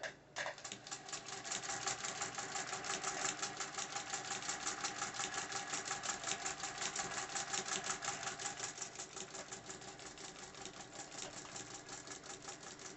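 A vintage Singer 201K sewing machine runs steadily on a quilt frame, a fast even rattle of stitching held close and constant with no voices.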